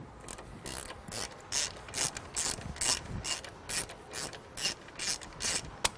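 A ratchet wrench loosening the 13 mm bolt on a car battery hold-down bracket gives quick, quiet bursts of close clicking, repeated in short strokes with brief pauses between.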